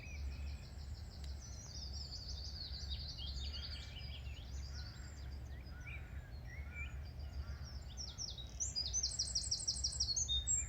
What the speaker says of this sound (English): simply return to the breath and to the bird's song